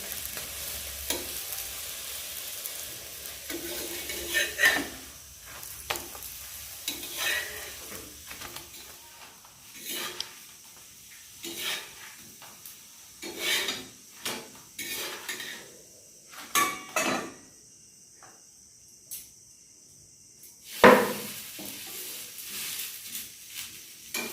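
A large metal spatula stirs frying food in a pan, giving intermittent scrapes and clinks against the metal over a soft sizzle, with quiet gaps between strokes.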